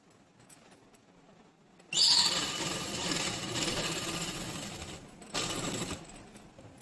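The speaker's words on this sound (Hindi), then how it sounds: "अब मैं इस पर पट्टी सिलाई उल्टे की तरफ से इस पर एक सिलाई लगा देती हूँ" Sewing machine stitching a strip along a night dress collar, a quiet start giving way to a sudden steady whirring run that continues, briefly dipping before resuming loudly.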